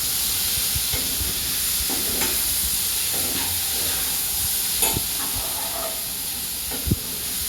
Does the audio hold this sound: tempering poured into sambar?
yes